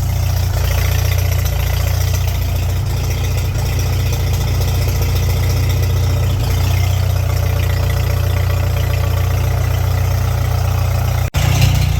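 A 1949 Farmall H tractor engine idles cold, a loud, close, steady low chugging rumble that holds throughout, with a brief dip near the end.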